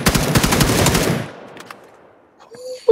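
Rapid automatic gunfire from a PlayerUnknown's Battlegrounds match rattles loud and close for about a second, then stops, leaving a quiet tail with small clicks.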